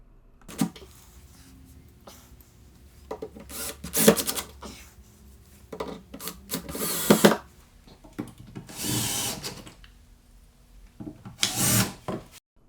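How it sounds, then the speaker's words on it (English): Hinges are screwed onto a plywood fold-away work surface with a power driver, heard as several loud, separate whirring bursts separated by short pauses and light handling knocks. "I set the work surface back down on the blocks and screw the hinges back in"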